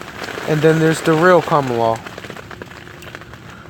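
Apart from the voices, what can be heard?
rain falling outside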